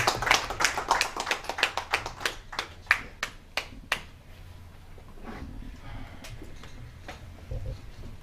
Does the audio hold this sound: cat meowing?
no